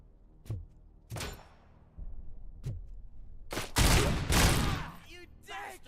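Gunshots in Robocop: Rogue City: a few sharp, separate shots ring out, then a louder, denser volley of fire near the end.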